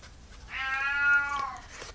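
A cat lets out one drawn-out, plaintive meow, clear and moderately close in a quiet indoor room.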